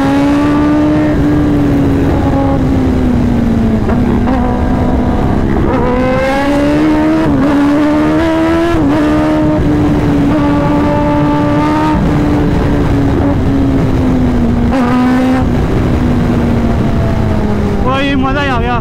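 A Kawasaki ZX10R superbike engine revs loudly and close on a road ride, its pitch rising and falling in repeated surges under steady wind noise, with a voice talking over parts of it.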